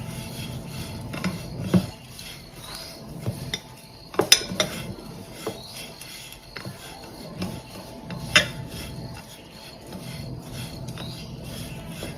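A spoon scrapes and knocks against a bowl while ground jaggery, peanuts and sesame seeds are mixed, producing steady rubbing with occasional sharper clinks and no talk.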